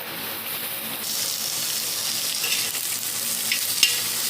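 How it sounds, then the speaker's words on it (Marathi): Chopped onion sizzles in a spoonful of hot oil on a tawa, the first step of an Agri-Koli style chicken rassa. A steady, close frying hiss runs throughout with no talking. "तव्यामध्ये आपण एक चमचा तेल टाकलेला आहे तो थोडासा गरम झाला की आपल्याला त्यामध्ये कांदा भाजायचा आहे"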